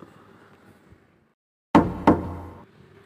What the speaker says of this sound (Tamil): மச்சான், கதவை தட்டுற சத்தம் கேட்குதுல்ல?